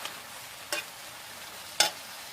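A spoon stirs mixed vegetables (potato, eggplant, tomato, peas and a little cabbage) frying in a pan, giving two short scraping strokes over a faint, steady sizzle, close by and with no speech.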